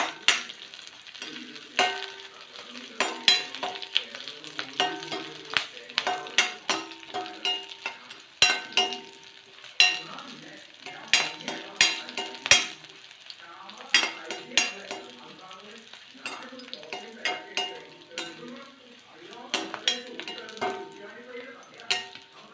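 Green chilies, curry leaves and red chilies fry and sizzle in a pan for Chicken 65, with repeated stirring clinks and scrapes of a utensil against the pan in an irregular rhythm.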